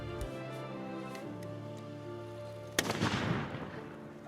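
A Japanese matchlock firearm fires a single loud, sharp report that rolls off into a decaying echo, following a stretch of sustained tonal background music.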